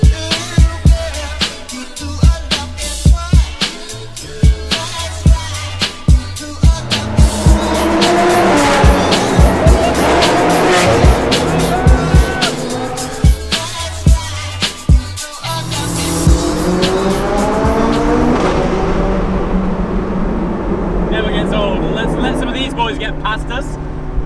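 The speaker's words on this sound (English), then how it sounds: "Insane hurricane exhaust." A McLaren 675LT supercar in a convoy of about twenty supercars accelerates hard, with loud rising exhaust roars and sharp pops, cars passing and tyre noise, and a voice speaking over it.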